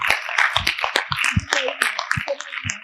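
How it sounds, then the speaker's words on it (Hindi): An audience at a Jeevan Vidya Parichay camp in Nikora claps for teachers, with a scattered, fairly close patter of hands rising and falling over a couple of seconds while voices are also heard. "तो टीचर्स के लिए खूब जोरदार तालियां एक बार"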